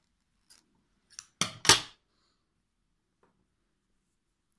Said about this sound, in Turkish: makasımla kesiyorum.